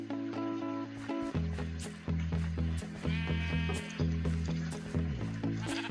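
Sheep bleat again and again in a blocky Minecraft-style video game, the short wavering calls coming in quick succession, some overlapping, over a looping musical backdrop.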